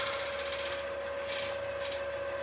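A skew chisel scraping a burr bowl spinning on a wood lathe, a steady hum with rhythmic light scraping pulses, then two short sharp bursts of cutting, close and clear with no talking.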